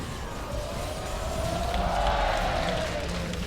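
Esports arena crowd at a League of Legends LEC match swells in a sustained roar of cheering that builds toward the middle and holds steady to the end.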